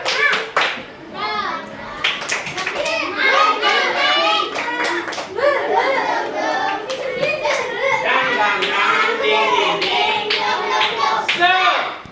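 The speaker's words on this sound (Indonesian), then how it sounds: "Tepuk semangat." A group of schoolchildren clap hands together in a fast, patterned spirit clap, with young voices chanting and calling out over the claps, close and lively.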